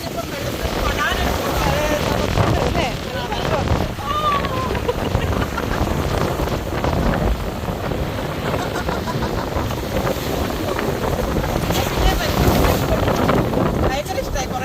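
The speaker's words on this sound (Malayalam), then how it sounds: "കണ്ടോ വരുന്ന തിരമാലകൾ കണ്ടോ?" Sea waves roll in along the shore at Portsmouth, a broad continuous wash buffeted by heavy wind noise on the microphone, with people talking in the background.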